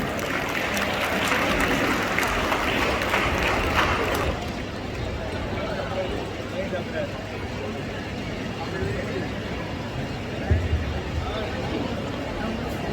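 An audience at a school closing ceremony claps for children performers, a dense, loud patter of applause for the first few seconds that drops off into crowd murmur and background noise.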